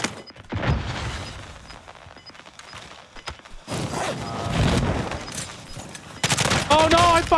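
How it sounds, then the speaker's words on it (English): Gunfire from a JAK 12 shotgun build in a video game shooter comes in loud, close bursts of rapid shots and scattered single blasts, with mechanical clicks in between and people talking over parts of it. "Who's he shooting at?"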